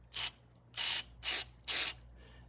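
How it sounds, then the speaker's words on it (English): Four separate hissing bursts of aerosol spray, each about a third of a second long, directed into the passageways of an obsolete carburetor from a BSA 441 Victor motorcycle. Close, evenly spaced, with a low hum underneath. "spray it in here, and watch the two sprays."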